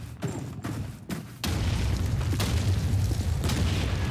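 Grenade explosion in the Call of Duty 2 video game, a sudden heavy boom that gives way to a sustained loud rumble, with faint earlier game noises before it.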